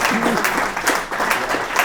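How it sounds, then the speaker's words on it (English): Listeners at a software conference talk break into applause, a dense and fairly loud patter of clapping that rises and dips slightly, with a voice briefly audible beneath it. "I didn't know that was the applause line"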